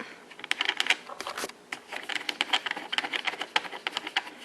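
Rapid plastic clicking and tapping as an Apache 2800 case is pressed shut, a dense run of small snaps up close.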